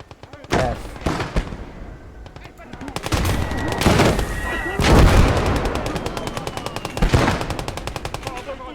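Dense gunfire in a Blood Red Snow video game battle, rapid machine-gun bursts and heavier booming shots rattling almost continuously and loudly, close by, with no talking.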